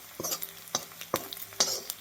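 Onion frying in a pan with asafoetida, stirred with a utensil: soft steady sizzle broken by several distinct scraping stirs, close and moderately loud, with no voices.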